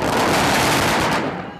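Fireworks bang in a city at year's end, a dense rapid string of loud crackling reports for about a second and a half before thinning out.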